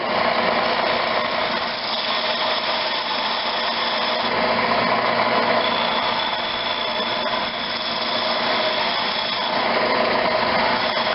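A lathe whirs continuously while a gouge cuts into spinning wood, producing a steady scraping, buzzing drone with slight shifts in pressure.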